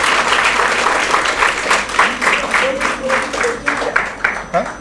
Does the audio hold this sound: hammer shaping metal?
no